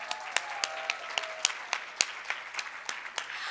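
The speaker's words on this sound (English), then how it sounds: "give a round of applause to all of yourself" Sparse, scattered clapping from a small group of young people at a live-streamed rally gathering, individual claps standing out irregularly against a quiet background.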